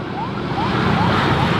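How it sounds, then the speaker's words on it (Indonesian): An ambulance siren wails in repeated rising sweeps over steady traffic rumble, sounding some distance away. "Udah ada ambulan lagi."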